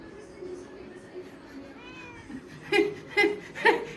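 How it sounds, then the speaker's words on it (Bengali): A cat meows three or four times in quick succession, fairly close, after a stretch of quieter background murmur. "এদিকে ম্যাও ম্যাও করে যাচ্ছে"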